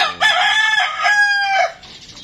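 A three-month-old Boston Roundhead rooster gives one full crow, loud and close, a rising then held call that fades at the end.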